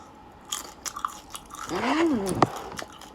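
Close crunching bites and chewing of crisp food, with a brief squeaky vocal sound in the middle.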